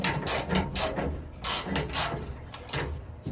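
A hand ratchet tightens bolts in a sequence, clicking in a rapid rhythm of short bursts with brief pauses between strokes, close and moderately loud with no voices.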